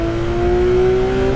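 Porsche 911 GT3RS engine at full power in the Assetto Corsa racing game at Kyalami, a loud steady high-revving drone with a sustained tonal whine and no voices.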